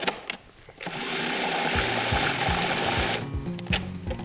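A food processor or grinder whirs steadily as it grinds Parmesan cheese in a kitchen, a loud, close mechanical hum after a few short clicks, sustained for several seconds before stopping with rattling taps.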